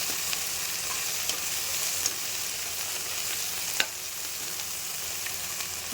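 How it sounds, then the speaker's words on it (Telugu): Bay leaf, whole spices and garlic frying in a pan for tomato rice give a steady, close sizzle with a few sharp clicks of stirring, and no voices are heard. "ఇప్పుడు మనం ఈ మసాలా వేసుకుందామండి బిర్యానీ ఆకు ఈ మసాలా ఇవి కూడా పచ్చివాసన పోయేంత వరకు బాగా వేయించుకోవాలి"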